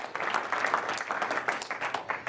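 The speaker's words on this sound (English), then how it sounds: "One more round of applause before we get into this." A seminar audience gives a short, steady round of applause for a guest on stage. The clapping is moderately loud and evenly sustained.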